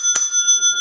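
A single bright bell ding rings out, sharp and clear with a long sustained metallic ring, used as a sound effect for scoring a cereal's nutrition.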